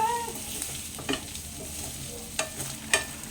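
Spaghetti sauce is stirred in a pan over a low sizzle, with several distinct spoon scrapes and clinks spaced out across the stretch, close by and moderately loud.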